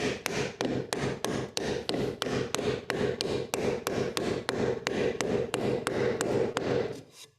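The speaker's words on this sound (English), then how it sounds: "And then with a rubber mallet, walk on down." A rubber mallet taps a wooden dovetail joint together, sounding as a steady series of about twenty evenly spaced, close, dull knocks over a faint rubbing, ending abruptly.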